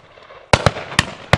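Shotguns fire at high pheasants on a driven shoot at Drumlanrig Estate. Four sharp, loud reports crack out in quick, uneven succession after a brief quiet lead-in.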